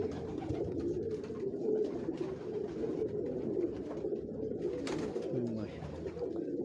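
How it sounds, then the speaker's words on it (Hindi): Salare pigeons, called so in Kasur, with black outer feathers, coo steadily from a Lahore rooftop loft, several birds overlapping in a continuous low murmur close by. "हम कसूर में इनको सलारे कबूतर कहते हैं"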